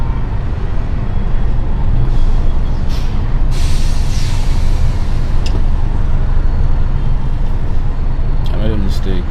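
Dense city traffic in South-Eastern Nigeria, a constant loud roar of engines and road noise with scattered horn blasts and squeals cutting through, voices faintly mixed into the din.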